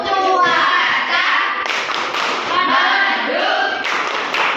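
Children in a primary classroom perform a rhythmic weather-themed clapping game, their hands and voices mixing in a steady, loud patter of claps under group chanting.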